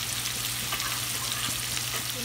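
Beef frying in a pan with onion, garlic, ginger, turmeric, chili and curry powder, a steady dense sizzle that stays loud and even throughout without a break.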